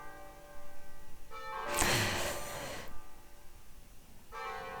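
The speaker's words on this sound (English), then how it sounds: "those are the church bells" Village church bells ring across a square after Sunday mass, tolling strikes with long ringing tails, interrupted by a loud clattering thump midway.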